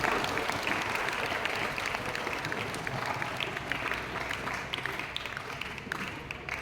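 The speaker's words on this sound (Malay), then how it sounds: "Beri tepukan gemuruh sekali lagi kepada mereka." Applause from a school audience at a farewell ceremony: a thick, even wash of many hands clapping at a constant level, with no break across the whole stretch.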